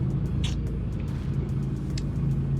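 An empty truck drives down a road in winter, its engine a steady low rumble heard from inside the cab, with a few soft clicks over the top.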